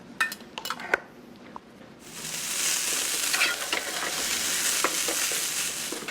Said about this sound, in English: All right, all our veggies are cooking